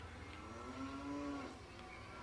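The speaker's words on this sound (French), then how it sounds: "Il y a un bruit de vache." A cow moos in the video game Armikrog, one long drawn-out low call that swells and fades over a steady background hum, with no voices.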